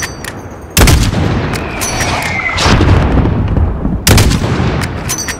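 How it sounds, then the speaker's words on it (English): Booming mortar and gunfire blasts from Call of Duty Modern Warfare hit loud and close, with two sharp heavy impacts over a rumbling battlefield din. "There's still a mortar out there."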